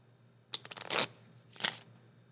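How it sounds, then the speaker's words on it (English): A deck of playing cards is shuffled close by in two quick riffling bursts, the first longer and fluttering, the second short, with quiet gaps around them. "So let's shuffle."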